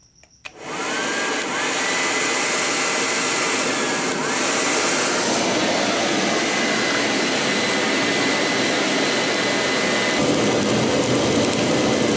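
A coal-fired furnace for melting aluminium is cranked up after a short start, settling into a loud, steady blower roar that runs close and unbroken to the end.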